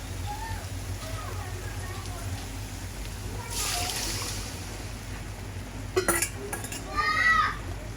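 Meat tipped into a pot of fried onion, ginger and garlic and stirred, soft sizzling under metal spoon clinks and scraping against the pot, with a brief clatter near the end; a person talks over it.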